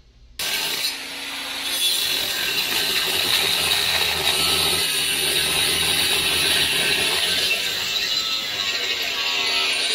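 A cutting tool bites into the body metal of a Jeep CJ2A flat fender to notch it, a steady rasping, grinding cut up close that starts abruptly and continues without pause.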